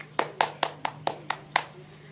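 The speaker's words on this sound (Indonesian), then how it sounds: "Tepuk tangan untuk Riko." A small classroom group claps in a micro-teaching lesson, about seven distinct sharp claps in an uneven rhythm, fairly close, with a steady low hum beneath.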